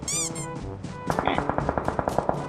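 Automatic gunfire in the PUBG Mobile battle game cracks out as a steady rapid burst of about a dozen evenly spaced shots, loud and close, after a short tonal sound at the start.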